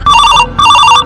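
A phone ringtone rings loudly in two repeated bursts with a brief pause between, bright electronic tones alone with no talk over them.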